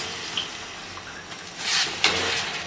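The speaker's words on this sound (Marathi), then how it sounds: "त्यानंतर ह्याच्यामध्ये मी पाणी घालून घेत आहे अर्धा ग्लास" Half a glass of water runs and splashes briefly into a pan of vegetables, a short rushing pour near the end, up close against low background noise.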